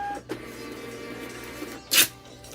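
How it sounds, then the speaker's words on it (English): A label printer printing a shipping label: a steady low mechanical hum with a short clatter near the start and a louder whirring burst near the end, close by with no talk. "I can tell my label printer is about to need a new roll of labels."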